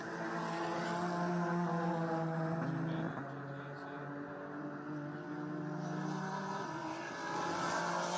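GT race cars from the GTS/GTSA class racing on the Grand Prix of Texas circuit, a steady moderately loud engine drone with shifting pitch as cars pass, heard over the broadcast track mix.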